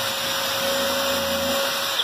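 A power drill drives screws into the wood of an ironing-board chair with a loud, steady whirring hum that holds for about two seconds before easing off.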